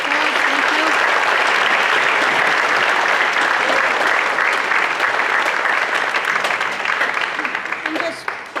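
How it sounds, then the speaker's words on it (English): Sustained, dense applause from an audience at an athletic awards ceremony, loud and continuous for several seconds before thinning slightly at the end. "So if we could have a round of applause"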